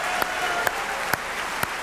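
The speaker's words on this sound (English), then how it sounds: "you better be clapping for that one" Audience applause at the 2018 Autosport Awards ceremony, a steady crowd clapping that fills the short clip, with a few sharper individual claps standing out at regular intervals.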